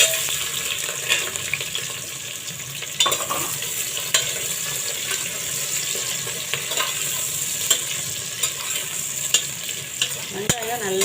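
Onions and whole uncut green chillies frying in a pan for kuska, a steady soft sizzle with occasional stirring scrapes and clinks, fairly close, no talking.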